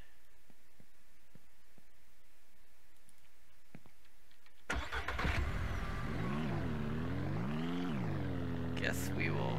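In the Ranch Simulator video game, a vehicle engine starts after a few quiet clicks and then drives on, its loud mid-pitched hum rising and falling through repeated revs and gear changes.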